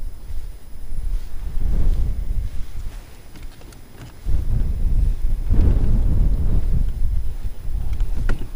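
Gusty wind buffets the microphone on a fishing boat out on cold winter water, rising and falling in uneven surges with low rumbling bursts and no speech.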